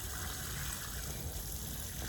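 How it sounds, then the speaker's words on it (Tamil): Water poured onto newly planted chilli seedlings in a French garden makes a steady, soft splashing and trickling, faint and continuous throughout with no talk. "இப்போ தண்ணி ஊற்றுவோம்"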